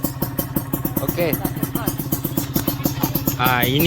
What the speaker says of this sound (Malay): motor ni bunyi dia memang senyap lah.